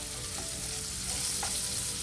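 Deveined, tail-off shrimp fry in a pan with a constant, fairly quiet sizzle and light stirring, and no voices.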